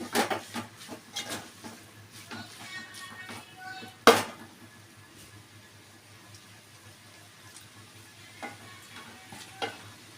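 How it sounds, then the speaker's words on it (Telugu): A spoon stirs curry in a pan just after coriander goes in, giving soft scraping strokes over a low sizzle, with one sharp clank of utensil on the pan partway through. "కొత్తిమీర వేసి కలుపుకుందాము"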